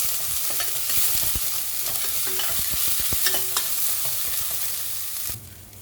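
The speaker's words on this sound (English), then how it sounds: "And I will saute the onions." Onions sautéing in a pan for misal pav, a dense continuous sizzle with repeated stirring scrapes and taps throughout, close and fairly loud, cutting off abruptly near the end; no talking.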